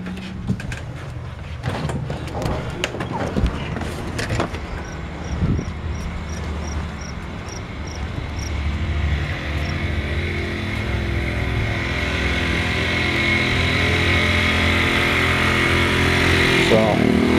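A Ryobi RYi1000 1000-watt inverter generator runs at full output powering a 25 cubic foot fridge, a steady engine drone that builds gradually, with someone talking and some handling clatter early on.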